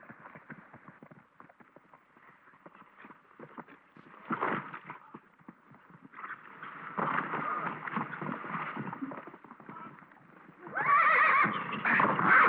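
A horse neighs loudly, with hoofbeats clopping through the middle and a sharp, high whinny near the end, and faint voices around it.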